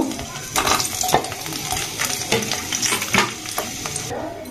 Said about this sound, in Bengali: তো এর মধ্যে দিয়ে দেব ডিমগুলো আমি ফ্রাই করে নেব